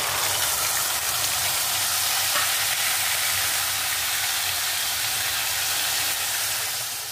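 Spice paste made with asafoetida and whole spices fries in a pan, a loud, continuous bright sizzle close up with no pauses or voices.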